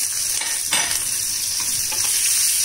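Chillies fry in hot oil for an orange pickle, a loud continuous sizzle and crackle with intermittent stirring scrapes and light clinks close by, and no talking over it.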